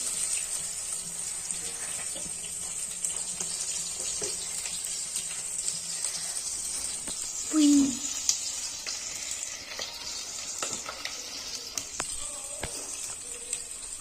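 Mustard seeds, cumin and onions sizzle in hot oil in a home kitchen, a steady bright hiss close by with a brief clunk midway and faint pops, with no talking.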